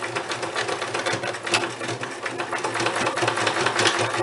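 A sewing machine runs steadily to stitch across the folded end of old shirt fabric, its fast mechanical whir continuous and close for a few seconds.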